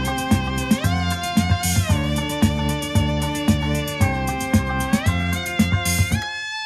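A Korg Monotron analog synthesizer plays a simple, whiny, buzzy top line that steps between held pitches over a steady, rhythmic, thumping backing pattern, loud and close.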